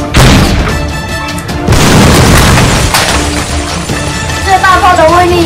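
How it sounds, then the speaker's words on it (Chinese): An RPG rocket launcher fires in a live-action battle-royale game: a loud, close blast with a long, rumbling roar that stays heavy for several seconds. "看我大炮的震撼。"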